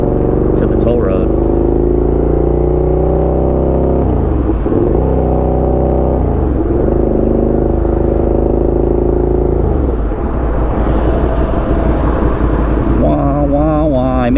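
A 2017 Suzuki SV650 motorcycle rides on a toll road, its engine a loud steady drone with wind rush, dipping and swelling as revs shift, with a few brief rising rev changes near the end.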